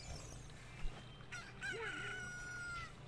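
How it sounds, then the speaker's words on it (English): A rooster crows in Zelda: Ocarina of Time, one drawn-out cock-a-doodle-doo rising and falling over a low steady game hum, fairly faint and alone. "A chicken hatched from the egg we were incubating. Chickens are loud. Especially at sunrise."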